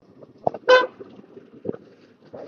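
Hyderabad road traffic with a car horn blaring in one sharp, loud honk. Lower rumbles of traffic and brief fainter horn blips surround it.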